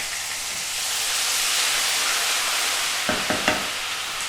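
Ginger garlic paste frying in hot oil for a mixed carrot, cauliflower and turnip pickle gives a steady, loud sizzle and hiss throughout, with a few short clinks near the end.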